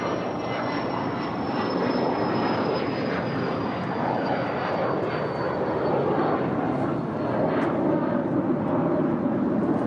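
An airliner takes off from runway 25 right at LAX with a loud, continuous jet roar and a high engine whine that slowly falls in pitch, heard throughout.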